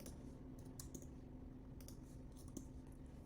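Soft, faint keyboard taps while entering stitch counts and times into a cross stitch planner spreadsheet, a few scattered clicks in quick groups over low background hum.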